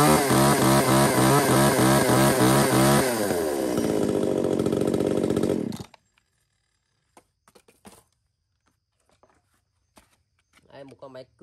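A 33cc Japanese chainsaw engine runs loud and close at high revs, then drops and sputters to a stop about halfway through, leaving near silence and a few faint clicks.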